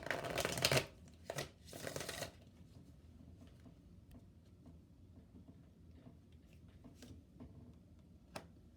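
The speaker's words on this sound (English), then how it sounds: "I'm going to pull one of my chakra wisdom cards right here" Tarot-style chakra wisdom cards shuffled in three quick riffling bursts close by, followed by quiet scattered taps and card handling.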